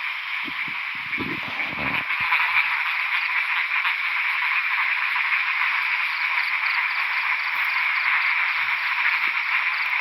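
A dense chorus of frogs croaks continuously through rainfall outdoors in the wild, a loud unbroken rasping wall of calls with a few low thumps at the start.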